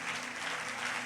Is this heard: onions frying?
no